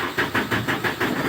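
A Sinotruk truck diesel engine with a fuel-knock fault cranks with a steady, rapid rhythmic chug, about six even pulses per second, loud and close.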